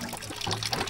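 Weak trickle of water dribbling from a tap while people queue to fetch water, a soft, faint, uneven splashing and gurgle that lasts under a second, with no talk.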